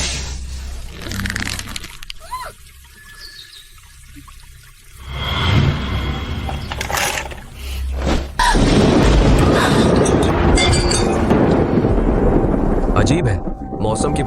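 Heavy thunderstorm with deep rolling booms, a sharp crack and a surge of pouring rain and wind that grows loud and constant in the second half.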